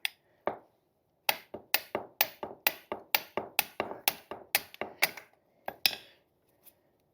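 Hammer striking metal during a suspension install on a 1956 Chevy truck: about a dozen sharp, ringing clanks in a quick steady rhythm, close and loud, with brief silences between.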